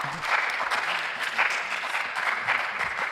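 A crowd at a university business quiz national championship claps steadily, the dense patter of many hands filling the room with no break.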